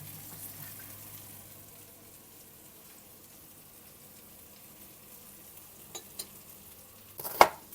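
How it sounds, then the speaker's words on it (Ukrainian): Hake sizzles quietly in a frying pan, a steady soft hiss, with a few light clinks and a short clatter of cookware near the end. "Поки смажиться риба"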